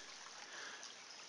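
Water flows steadily in a creek on rural Alabama land, a continuous soft rushing hiss that stays even throughout with no voices.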